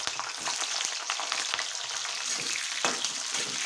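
Green chillies fry in hot oil for a chilli pickle, giving a continuous crackling sizzle with light stirring scrapes, close and fairly soft.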